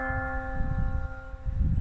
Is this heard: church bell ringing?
yes